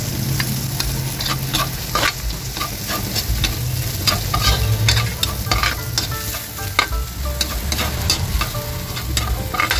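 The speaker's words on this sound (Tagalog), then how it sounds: "Kaya ilalagay na natin yung ating mga sibuyas." Onions hit a pan of golden-brown garlic for a chicken liver dish, producing a loud, continuous sizzle with frequent spatula stirring and scraping throughout, no talking.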